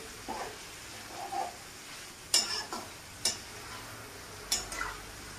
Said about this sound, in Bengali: ভালো করে ভাজতে হবে পেঁয়াজটাকে।